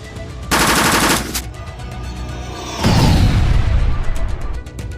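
Rapid gunfire from an animated Transformers battle, loud sustained bursts with an explosive boom partway through, layered with whooshing effects and no talk.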